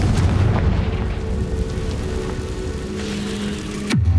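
Fiery Confringo spell blasts in Hogwarts Legacy on Nintendo Switch, a dense crackling roar with rumbling low end that holds steady, then a sharp new burst with a falling whoosh near the end.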